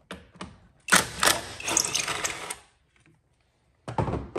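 Ratchet wrench loosening a 13 mm battery clamp bolt on a 2014 VW Passat TDI, heard as a close, dense burst of rapid clicking that runs for under two seconds, then pauses before a second short run.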